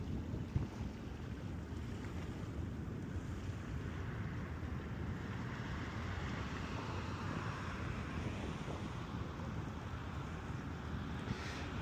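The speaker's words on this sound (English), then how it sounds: "People on skidoos." Jet skis running on cold ocean water, a distant engine drone heard under steady heavy wind buffeting and surf noise, with no talking.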